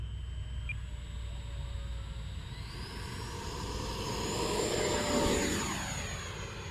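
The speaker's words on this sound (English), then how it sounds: "Man, I'm loving this jet." An E-flite Viper RC model jet whooshes overhead with a steady turbine-like whine, growing louder as it sweeps closer near the end.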